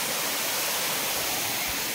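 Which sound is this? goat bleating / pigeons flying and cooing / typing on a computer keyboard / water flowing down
water flowing down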